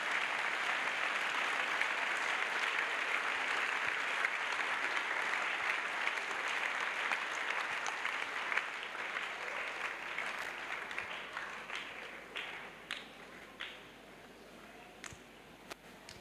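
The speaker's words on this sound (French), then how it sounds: "Oui, acclamez très fort." A crowd applauds at an evangelism crusade, with a dense, sustained clapping wash that slowly thins into scattered individual claps toward the end.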